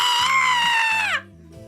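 A person imitates a goat's scream with a loud, sustained, strained bleating cry that drops off sharply at the end, followed by a quieter trailing sound.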